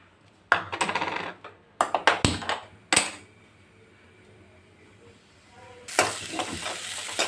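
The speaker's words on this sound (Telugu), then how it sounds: "కడాయిలోకి రెండు టేబుల్ స్పూన్ల ఆయిల్ వేసుకొని ఒక ఉల్లిపాయ ఒక పచ్చిమిరపాయ కాయ కట్ చేసుకుని వేసుకొని ఫ్రై చేద్దాం" Sliced onion and one green chilli hit two tablespoons of hot oil in a kadai with a clatter of pieces and stirring knocks, then settle into a loud, steady close sizzle.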